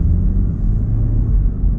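A Land Rover Defender 110 engine revs to just under 4000 rpm, heard from inside the cabin as a steady, muffled low rumble that stays smooth and quiet throughout with no voices.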